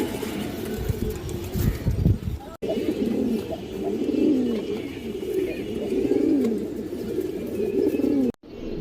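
Fancy domestic pigeons, including Bagha, khaki and high-flyer breeds in a loft, coo continuously in soft, throaty rolling calls. Several birds overlap close by, with occasional wing rustles.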